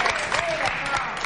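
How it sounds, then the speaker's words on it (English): An audience claps together in a brief burst of steady, close applause, with talking over it. "Let's give ourselves a big clap for all the hard work."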